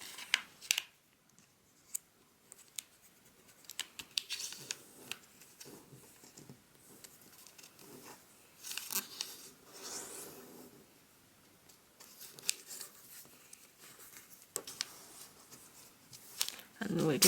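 Origami paper is opened, folded and squashed flat in soft, close crinkles and rubs, with a person speaking at times over the handling.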